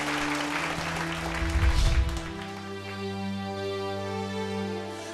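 A studio audience at a televised vocal competition claps and cheers for a singer, a loud burst of applause in the first two seconds that fades as a sustained musical backing comes in.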